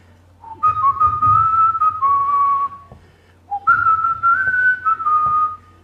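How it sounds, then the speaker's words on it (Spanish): A person whistles a tuneful melody in two clear phrases separated by a short pause, close and fairly loud. "si ya silbo con la melodía de una canción"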